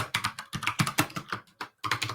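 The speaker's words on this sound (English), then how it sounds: "I'm sorry that I had my my mic on while I was typing" Close, rapid typing on a computer keyboard, with clustered clacking keystrokes in an uneven rhythm and brief pauses between bursts.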